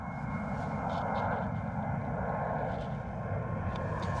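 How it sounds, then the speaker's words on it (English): A Vueling A320neo climbs out with its landing gear retracting, a continuous broad engine roar holding steady and fairly distant, a faint hum running underneath throughout. "Landing gear up on the Vueling A320 Neo."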